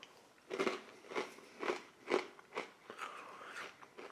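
Crisp crunching bites of MRE corn nuggets, repeated several times in an uneven rhythm, close up and fairly quiet.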